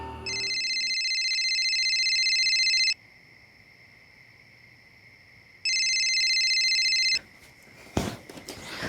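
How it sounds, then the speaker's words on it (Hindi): A telephone rings with two long electronic trilling bursts separated by a pause, loud and close with no voices, followed by faint handling noise. "पर एक दिन सोफिया ने सामने से मुझे फ़ोन किया।"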